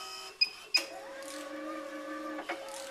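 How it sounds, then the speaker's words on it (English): 3D printer running its automatic bed height calibration, with a couple of sharp clicks followed by a sustained, quiet whirring motor tone and another soft click near the end. "I'm going to push the actual excuse me, auto height button, so that the printer does an auto height."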